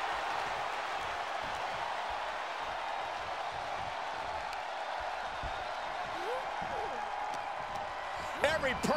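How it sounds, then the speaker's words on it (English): Arena crowd noise from a WWE 2K24 tag team wrestling match, a steady wash of cheering and applause under commentary, with a few sharp thuds near the end. "Every person in this capacity crowd is on their feet."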